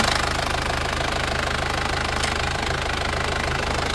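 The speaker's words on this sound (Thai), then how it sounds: "นี่ฟังเสียงเครื่อง" A used Isuzu Dragon pickup truck engine idles steadily up close, with a constant low rumble and a rapid, even ticking knock.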